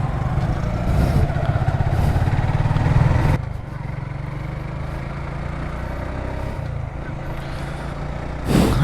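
A motorcycle engine drones steadily and close up while riding around the Gopalganj science and technology university campus, with wind rush, a sudden drop in engine noise partway through, and a brief rise again at the end.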